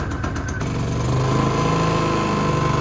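A portable generator engine runs steadily after its first start-up with the choke on, a close, loud mid-pitched drone that settles into an even idle after a few rough pulses at the start.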